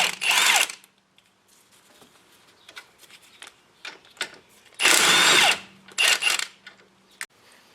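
On a Ford Focus front brake, a power tool spins out the two 15mm caliper bolts in short, loud whirring bursts, with quieter clicks and handling noises between them.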